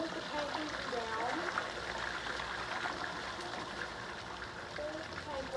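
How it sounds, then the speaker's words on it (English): A toilet flushing through with the water supply shut off, its lever held down; a steady trickling, streaming water rush continues throughout at moderate level with no voices. "Hold the tank lever down and flush it through."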